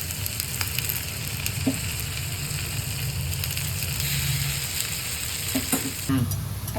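Green sweet corn appam batter frying in oil in an appam pan, a steady close sizzle and crackle running throughout with a few faint clinks near the end.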